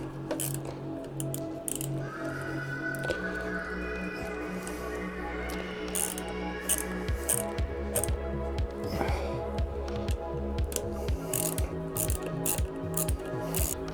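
Ratchet wrench clicking in short bursts while tightening the battery terminal bolts on a Kawasaki Vulcan S motorcycle, close up, with mechanical rattles and a steady background hum throughout.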